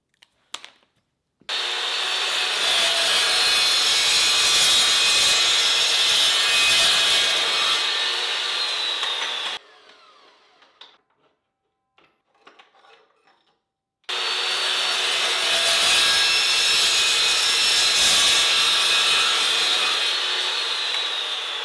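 A power saw cuts the core of a sling bow in two long loud runs, a harsh rasping whine, separated by a quieter stretch of small clicks and handling noises.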